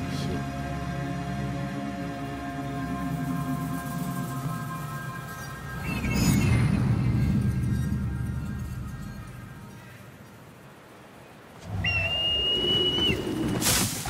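A character whistles in the video game Assassin's Creed Unity, with a sustained high whistle tone rising near the end over a steady layer of game ambience and background music.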